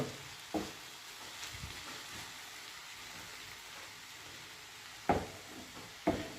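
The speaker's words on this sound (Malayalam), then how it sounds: "നന്നായിട്ടൊന്ന് ഇളക്കി വെക്കുക കേട്ടോ നന്നായിട്ടൊന്ന് ഇളക്കുക" Curry being stirred in a pan, a soft continuous scraping hiss with a few sharper clinks of the spoon against the pan, close and fairly quiet, no talking.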